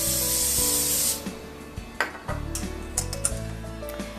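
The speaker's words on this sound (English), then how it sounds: "Before putting the cornbread into the pan, spray it with some olive oil." Olive oil cooking spray hisses in one steady burst for about a second as it coats a baking pan for cornbread, followed by light clinks and taps of the pan and kitchen items.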